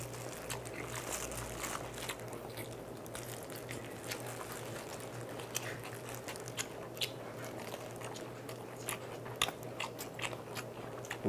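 Noisy close-up eating of kielbasa sausage, chonggak radish kimchi and rice, with sharp crunchy bites and wet chewing in an irregular rhythm over a quiet background hum, no talking.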